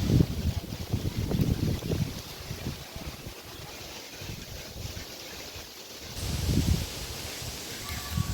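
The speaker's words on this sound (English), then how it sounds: "Today is a very windy day" Strong wind gusting outdoors in a rural community, a rough, continuous rumble buffeting the microphone that swells at the start and again near the end.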